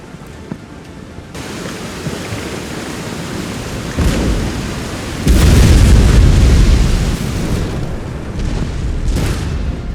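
Ship cannon fire during a naval battle in Empire Total War, loud booming blasts rolling in over a constant roar, with the heaviest barrage mid-way and another burst near the end.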